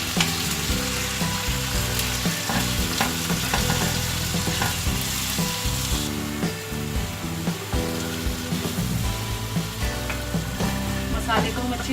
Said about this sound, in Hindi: सारे मसाले डाल दें, लहसुन अदरक, ये सब चीज़ें डाल के हम इसे भून लेंगे।